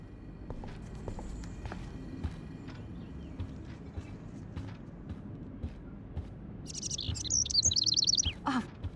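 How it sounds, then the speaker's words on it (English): A trapped bird chirps indoors in the Life Is Strange video game, a brief burst of bright tweets near the end, while footsteps and movement sounds run steadily underneath. "Can you help me get this bird out of here?"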